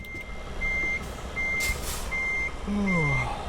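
A truck in Euro Truck Simulator 2 backs up, its reversing alarm giving four steady evenly spaced beeps close by, with a short air hiss and a falling engine whine near the end.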